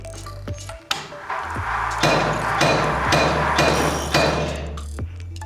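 A hammer in a weight-driven demonstration machine with chains and gears strikes an anvil about five times at a steady rate of roughly one blow per second. Each blow is sharp and close, ringing over a continuous mechanical whir.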